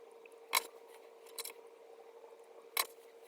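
Scissors snip through the ends of long straight hair during a home trim, three crisp close cuts spaced apart against a quiet room.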